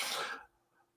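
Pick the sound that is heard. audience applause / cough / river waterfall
cough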